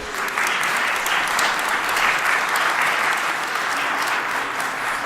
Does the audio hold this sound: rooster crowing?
no